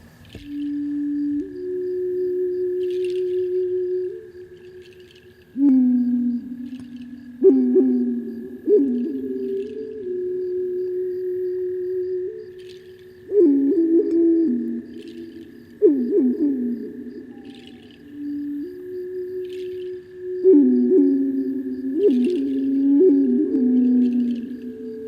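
A bass ocarina is played in slow, breathy, hooting low tones that imitate an owl, with sustained notes and bent slides repeating in separate phrases.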